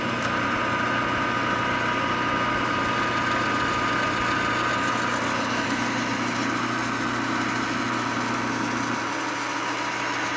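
A metal lathe takes a cut under auto feed while machining small parts for a model locomotive, giving a steady, even mechanical hum and whine that runs unbroken throughout with a slight shift in tone near the end.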